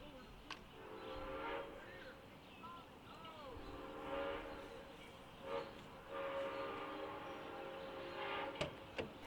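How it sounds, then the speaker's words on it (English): Southern Railway steam locomotive #630, running in a doubleheader, crawls across a wood-and-metal trestle near the Chattanooga River, sounding several long whistle blasts over a low, distant rolling rumble, all fairly faint. "The train has a slow order to cross this bridge safely."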